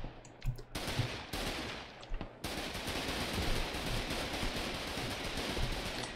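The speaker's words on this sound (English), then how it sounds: "I'm definitely hearing a lot of gunshots" Dense gunfire from the Foxhole war video game: sustained machine-gun bursts and scattered rifle shots crackle continuously, with a brief lull before the firing swells into a steady, loud fusillade.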